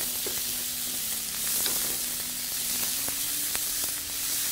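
Minced meat browning in a pan, a close, continuous bright sizzle and hiss with faint spattering pops.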